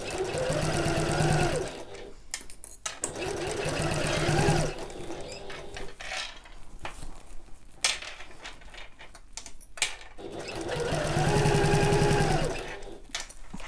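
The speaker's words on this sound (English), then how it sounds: "we're just sewing along the original seam line, 3/8 of an inch or 1 centimetre." A sewing machine runs in three loud bursts along a bag's original seam line at 3/8 inch, with rapid steady needle clatter and quiet pauses of handling between runs.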